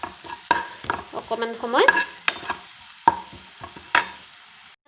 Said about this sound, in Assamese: দিয়াৰ পিছত অকণমান নহৰুখিনি কেঁচা গোন্ধ যোৱালৈকে লৰাই দিম